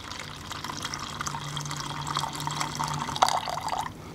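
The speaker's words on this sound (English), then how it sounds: "I'm just gonna pour off the finer particles." Water carrying fine suspended red shale particles poured off from a container while making pottery paint at ancient cliff dwellings, a steady soft trickle with faint splashing, alone and fairly quiet throughout.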